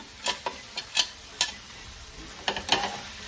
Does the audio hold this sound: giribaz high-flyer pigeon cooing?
no